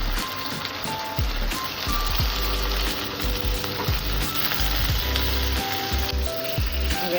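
Three cut potatoes tipped onto browned onions in a frying pan for a potato-onion egg bhurji, sizzling loudly and steadily throughout, with soft low knocks of the spoon moving through the pan.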